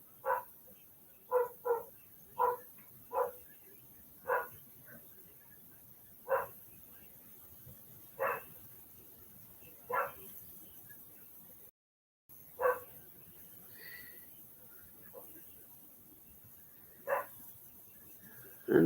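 A dog barks in short single woofs spaced every second or two, repeating steadily at moderate distance over a quiet indoor background with no talking.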